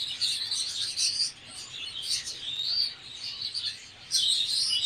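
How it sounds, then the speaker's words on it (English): Chicks of miniature colour budgerigars, including an opaline, chirp in their nest with continuous, high, scratchy peeping. The calls swell and fade in bursts and are fairly faint, with no talk over them. "Now this is a nest of colour budgerigars, the miniatures"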